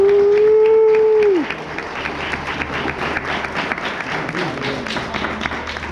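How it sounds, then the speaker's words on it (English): A fan gathering at a farmhouse property breaks into steady applause after a sustained tone fades out, with dense clapping that carries on at a moderate level for several seconds. "let's give a round of applause for the owners of the team."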